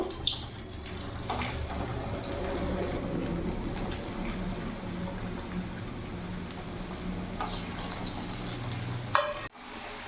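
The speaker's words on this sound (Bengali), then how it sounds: "আমি সিঙ্গারাগুলো ভাজছি" Singaras deep-frying in oil in a pan over a medium gas flame, a steady close bubbling sizzle that runs throughout, with a brief clatter near the end.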